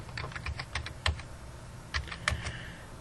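Scattered, crisp keystrokes on a computer keyboard entering names into a spreadsheet, soft clicks arriving in small irregular clusters against a quiet room hum.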